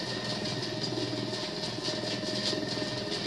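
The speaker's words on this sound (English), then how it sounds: "Holy crap, this is an awesome helicopter." A helicopter in the Ghost Recon video game, a steady droning engine hum with a rapid rotor pulse, continuous and fairly close throughout.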